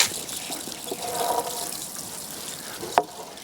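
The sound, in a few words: watering newly planted rose cuttings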